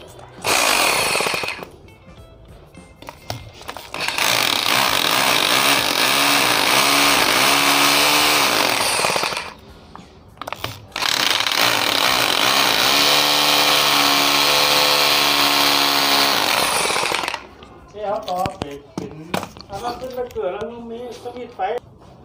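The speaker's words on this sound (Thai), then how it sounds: "นี่ทำการมาร์กแล้วเจาะนะครับผม" A power drill bores into a wall at a car repair shop, whining loudly in two long sustained bursts of several seconds each, separated by short pauses and followed by brief clattering and handling noise.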